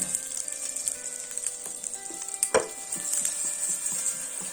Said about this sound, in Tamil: பெருங்காயம் மட்டும் கொஞ்சம் அப்படியே பொரியட்டும்.